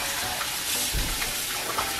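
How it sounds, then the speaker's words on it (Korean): Tap water runs steadily over raw chicken skins being rinsed in a kitchen sink, a close continuous splashing hiss with small surges as the skins are moved under the stream. "흐르는 물에 여러 번 헹궈줍니다"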